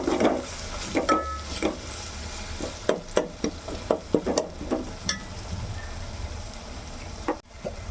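A spoon stirs vegetable pulao ingredients in a pan, giving a series of sharp scrapes and knocks against the metal in an irregular rhythm over a soft sizzle, close and clear, with no talk.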